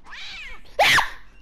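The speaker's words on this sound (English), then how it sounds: "I found the kitty!" A cat meows inside a horror video game, one soft drawn-out meow followed by a louder, sharper cry, close and alone.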